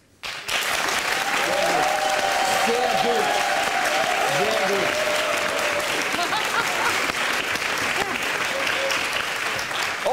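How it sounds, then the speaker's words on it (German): A studio audience at a German improv comedy show bursts into loud, sustained applause to vote for cosmetic surgery, a dense wash of clapping that holds steady for about ten seconds while someone briefly speaks over it. "und wenn Sie für die Schönheits-OPs sind, für die Seite von Frau Sinnen und Herrn Hohecker, dann klatschen Sie bitte jetzt."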